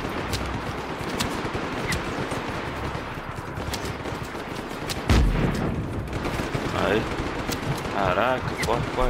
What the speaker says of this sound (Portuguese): Que isso, cara? Que tanto tiro é esse?